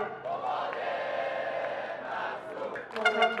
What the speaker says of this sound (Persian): قباد مسرور رو میبینید که در گوشه تصویر به هوادارانش که مشغول تشویق هستن تعظیم میکنه